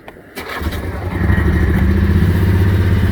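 A 6x6 off-road vehicle engine catches and settles into a loud, steady idle in neutral, a close, rough, throbbing drone that holds constant after a brief quiet start.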